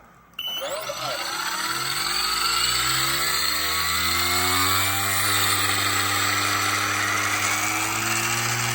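Motor of a 16-year-old Vario MD-500E RC helicopter being spun up after re-motoring, a loud close whine that rises in pitch after starting and then holds a steady mechanical drone with layered harmonics.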